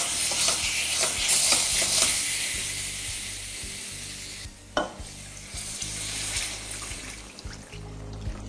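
Water is poured into a soybean curry masala frying with yogurt and oil. A loud, hissing sizzle fades gradually, with stirring scrapes and a sharp knock partway through. The cooking is close and continuous.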